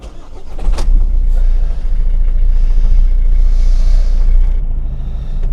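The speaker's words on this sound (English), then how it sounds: "So the engine runs, but it's really rough." A Volvo 1.6 diesel engine runs rough with one injector disconnected, giving a loud, steady, uneven rumble that holds throughout.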